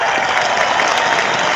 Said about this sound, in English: we'll give a round of applause for that